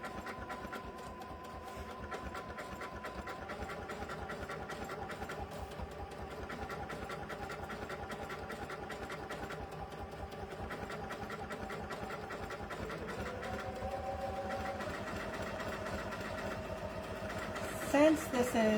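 Sewing machine stitching decorative mirage stitches along a fabric border, a fast steady mechanical chatter of needle strokes running continuously and fairly quiet throughout.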